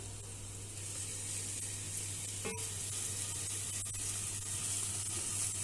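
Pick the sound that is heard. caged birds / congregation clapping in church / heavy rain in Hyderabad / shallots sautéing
shallots sautéing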